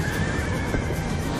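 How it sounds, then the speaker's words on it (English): A horse neighs loudly in the Call of Duty: Black Ops 2 video game, a close, sustained whinny with faint hoof clatter beneath it and no talk. "Horses for the win!"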